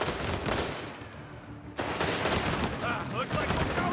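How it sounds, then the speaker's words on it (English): Machine gun fire in the WWII strategy game Company of Heroes 3, Italy campaign, a loud continuous rattle of bursts that briefly drops off near the middle before resuming at full intensity. "Fucking machine gun."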